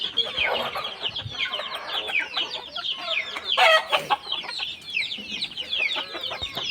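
Free-range hens and a rooster in the Konkan countryside cluck and chatter close by in a steady, overlapping flurry, with a few louder squawks breaking through.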